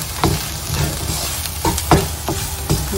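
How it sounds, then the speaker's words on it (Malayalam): Spice masala with chilli and coriander powder being stirred and sautéed in a pan: close, rhythmic spatula scrapes over a soft sizzle, no one speaking. "എന്നിട്ട് നന്നായിട്ട് മിക്സ് ചെയ്തിട്ട് പച്ചമസാലേൻ്റെ മണമൊക്കെ പോകുന്നത് വരെ നമുക്കൊന്ന് വഴറ്റിയെടുക്കാം"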